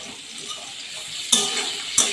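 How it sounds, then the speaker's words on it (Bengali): Pointed gourd frying with salt and turmeric gives a soft, quiet sizzle broken by two sharp scrapes of a utensil stirring the pan. "আমি একটু নুন ছড়িয়ে ভেজে নেব।"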